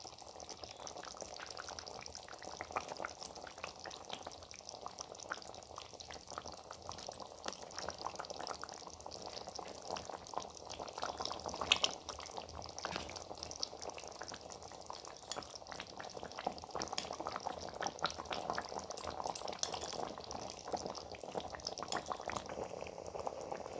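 Rohu fish curry with potato and cauliflower bubbles steadily in a pan, a continuous close hiss and simmer with small pops throughout, no talking.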